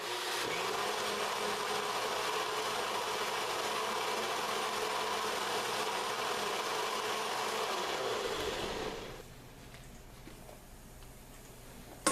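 A blender grinds soaked, softened rice for horchata with a loud, even whirring roar for about nine seconds, then cuts off to a faint hum and a final small clunk.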